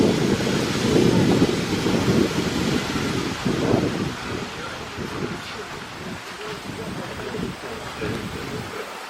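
Wet, gusty wind blusters outdoors at a live steam miniature railway, a steady rushing roar buffeting the microphone with surges and dips, loud and close throughout, with no clear speech over it.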